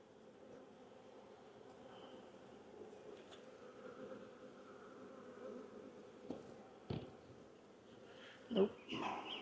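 Crowded honey bee hive buzzing steadily in an outdoor bee yard, a soft continuous drone with a few brief knocks and handling noises near the end; someone talks quietly over it.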